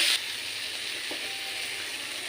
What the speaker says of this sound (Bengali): লবণটা দিয়ে পেঁয়াজটাকে খুব ভালো করে ভাজবো।